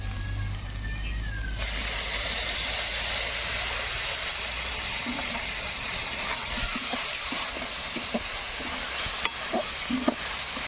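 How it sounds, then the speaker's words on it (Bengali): Chopped tomato hits a pan of fried ginger-garlic paste for a prawn and potato curry, setting off a loud, steady sizzle and frying hiss. A low rumble fades early, and a few soft stirring clicks follow. No one speaks. "আদা রসুন সুন্দর কষানা হয়ে গেছে এবার আমি টমেটো কুচি দিয়ে দেবো"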